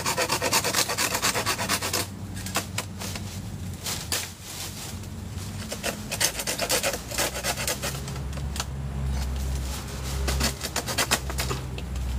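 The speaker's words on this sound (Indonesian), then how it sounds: "Saya harus pakai gergaji nih." A hand saw rasps steadily through bamboo in repeated back-and-forth strokes, close and scratchy, continuing without talk.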